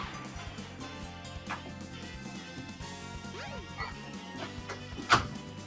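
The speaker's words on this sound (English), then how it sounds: "Is that your dog?" A pet dog named Daisy bursts into a room and breathes heavily close to a microphone, with panting, snuffling and a sharp knock near the end over steady background game music.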